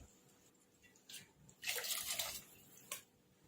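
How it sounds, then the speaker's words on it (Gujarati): A glass of water is poured into simmering misal gravy of boiled moong and moth beans, giving a brief, faint splashing gush after a few small drips, close by and without talk. "હવે એમાં એક ગ્લાસ પાણી એડ કરીશું આપણે"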